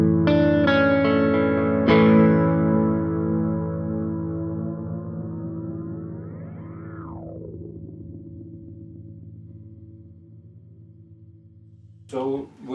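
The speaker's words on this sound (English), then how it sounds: "That's infinite repeats, so that's great for oscillation sounds." A guitar chord through a NUX analog delay pedal set to infinite repeats, the repeats piling up and self-oscillating, pitch warping and swooping before fading into a long sustained drone.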